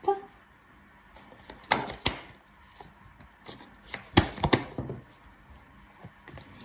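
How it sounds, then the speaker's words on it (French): Tarot cards are laid out one by one on a table, making sharp, close taps and soft slides in irregular bursts with quiet gaps between them. "lorsque j'aurai fini de poser les cartes"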